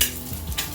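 An egg sandwich sizzles in a frying pan as it gets flipped, a soft steady hiss of cooking with a faint scrape and clink of utensil against the pan, quiet and close.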